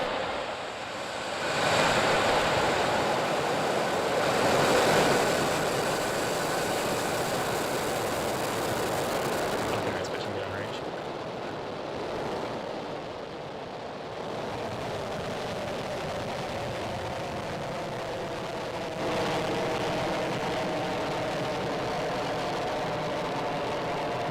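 Falcon 9 rocket engines igniting at a Starlink launch, a deep broad roar heard from a distance that swells and holds steady, rumbling on continuously without voices.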